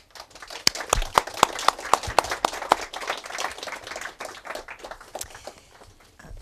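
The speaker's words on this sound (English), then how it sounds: "let's give her an applause" An audience at a talk claps for a speaker, sharp individual claps standing out early before thinning into a softer, scattered patter.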